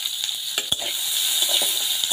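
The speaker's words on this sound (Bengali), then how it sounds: "এটা ভালোভাবে একটু নাড়িয়ে নেব।" Potatoes, onion, green chili and garlic frying in a pan, a bright, loud hiss of sizzling oil with a handful of spoon scrapes and knocks against the pan, heard close with no talking.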